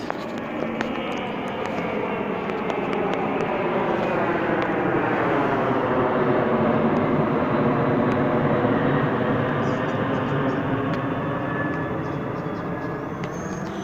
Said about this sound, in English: That's a plane flying over the car garage.